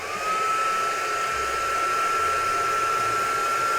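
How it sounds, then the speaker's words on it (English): A steady, loud whirring blower pushes air continuously with a constant motor whine throughout, like a heat gun running without pause. "you can use something like this, which is a heat gun"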